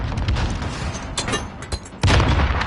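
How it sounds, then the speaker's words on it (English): Frag grenades going off in a Modern Warfare match: a string of sharp, close blasts and pops with rumbling low end, the heaviest boom landing near the end, with no one speaking. "Yeah, just frags just coming out of nowhere."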